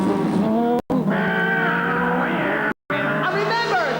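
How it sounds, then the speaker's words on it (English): Racing car engine noise, a loud continuous high revving drone with shifting pitch that climbs and falls, cut by two brief silent gaps, with no talk over it. "why do racing cars make this noise?"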